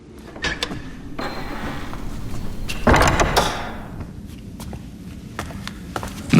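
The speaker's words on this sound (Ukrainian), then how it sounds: "Зачини двері, хлопче." A door closes indoors in a castle scene from a fantasy series, with footsteps and shuffling around it and a firm thud of the door shutting near the middle.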